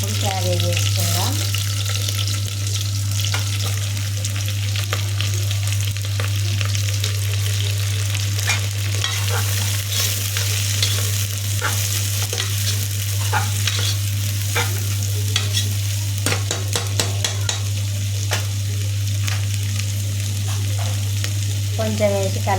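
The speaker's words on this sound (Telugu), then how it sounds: "పచ్చిమిర్చి, క్యాబేజీ వేసుకుందాం." Green chilies and cabbage stir-frying in oil: a continuous close sizzle with frequent clattering stirs over a steady low hum, lasting throughout with almost no speech.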